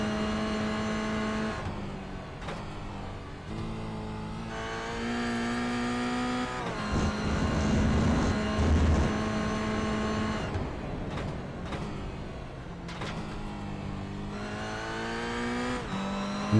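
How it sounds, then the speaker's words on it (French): A Toyota GR86 race car in a GR86 cup series race lapping a track, engine revving up through gears with drops at shifts and a brief tire squeal, loud and close. "Monsieur Maltais qui nous dit il pèse sur le gaz"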